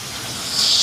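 Chicken hits a hot cooking pan, and the hiss of sizzling swells suddenly partway through, loud and close, with a softer frying hiss before it.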